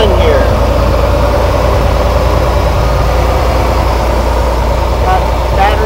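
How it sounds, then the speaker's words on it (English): The motor on a road line-striping machine idles smoothly, a loud, steady low rumble heard close up, with someone talking over it. "Striper seems to run really, really sweet"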